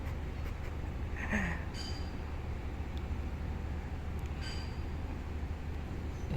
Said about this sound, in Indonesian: Kereta api Pasundan sudah berhenti di stasiun Klaten terlambat 12 menit